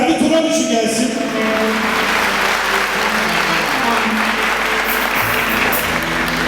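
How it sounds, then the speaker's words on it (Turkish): Steady, dense applause from a crowd filling the whole stretch, loud and sustained, at a Turkish charity event handing out battery-powered mobility vehicles to disabled people, with a voice briefly audible at the start. "Bu organizasyonun tam ana merkezinde olan alkışlar Ferdi Turan için gelsin"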